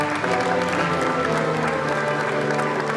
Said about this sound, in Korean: 당내에서 환호도 나오고 있고요.